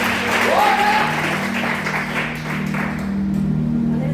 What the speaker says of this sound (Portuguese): Pode aplaudir e glorificar o nome de Jesus.